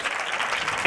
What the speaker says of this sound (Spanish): Un aplauso para Juan Ignacio.